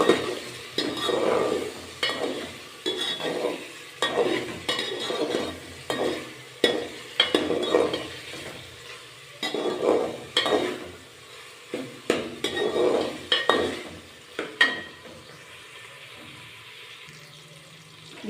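A spoon stirs ginger garlic paste in a pan in repeated rhythmic scraping strokes, each sweep sloshing and sizzling softly, close and moderately loud, pausing near the end.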